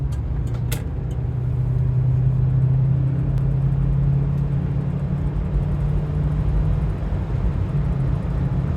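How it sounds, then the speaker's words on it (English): A 1976 Cadillac Eldorado convertible accelerates onto a highway, its engine giving a steady, loud low rumble that holds under constant road noise throughout, with no talking. "in the 1976 Cadillac Eldorado, getting on the highway."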